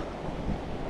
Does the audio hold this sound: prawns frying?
no